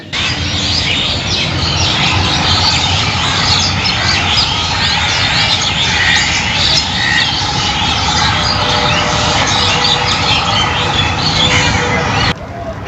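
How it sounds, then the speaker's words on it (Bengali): Birds chirp and call continuously in Ramna Park, a bright layered chorus over a dense hiss of insects and faint distant crowd babble, with no close talk. "কান পেতে শুনতে পারেন পাখির কলকাকলি"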